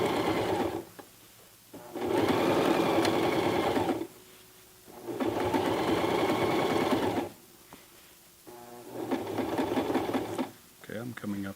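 A Toyota FSG325 sewing machine stitches a jeans hem in three loud, even runs of rapid whirring needle strokes, separated by short pauses, close by.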